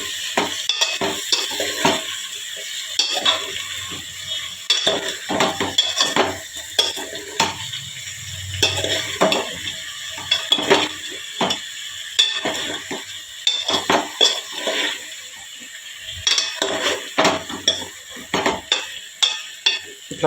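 A spoon stirs eggplant curry in a pot, giving repeated close metallic scrapes and clinks in an uneven rhythm, with a faint sizzle underneath and no talk.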